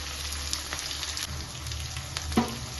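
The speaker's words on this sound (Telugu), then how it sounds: "ఉల్లిగడ్డ మంచి కలర్ వచ్చే వరకు వేయించుకోవాలి" Onions, green chillies and curry leaves fry in a pan for an okra curry, giving a steady, close sizzle with faint crackles and small spatters, no talking.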